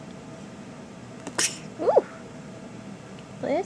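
A single short, sharp little sneeze, close and quiet, followed by soft vocal sounds in a calm room.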